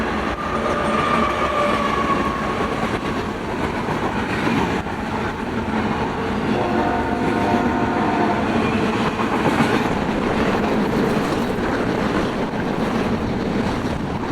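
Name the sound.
BNSF westbound port stack freight train passing, locomotive 7624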